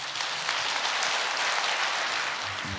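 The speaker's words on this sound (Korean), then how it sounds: "다시 한번 큰 박수 부탁드리겠습니다" An indoor audience at the opening ceremony of a culture center claps steadily and fairly loudly with dense, even applause throughout.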